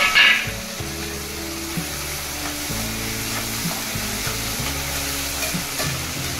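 Tomatoes frying in a pan for a dry vegetable dish, a steady soft sizzle with stirring scrapes and a brief louder hiss at the start, close and continuous.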